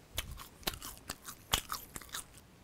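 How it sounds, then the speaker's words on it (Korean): Crisp fish-shaped bungeoppang pastry is bitten and chewed up close, giving a series of sharp crunchy snaps, about six distinct crackles spaced irregularly over a couple of seconds. "지금 붕어빵이 바삭바삭합니다"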